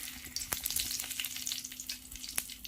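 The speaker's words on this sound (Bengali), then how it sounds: "এবার তেলের উপর আমি দুটি তেজপাতা দিলাম।" Two bay leaves sizzle in hot oil in a wok, starting fish curry, with a steady close crackle and small pops. There is no talk.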